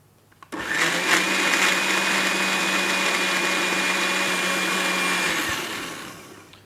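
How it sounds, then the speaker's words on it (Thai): A blender whirs steadily for about five seconds, blending a cocoa mixture, with a sharp start and a gradual wind-down, loud and alone with no talking. "สิ่งที่เราจะต้องทำอย่างเดียวก็คือว่า เอาไปปั่นให้เข้ากันดีครับ"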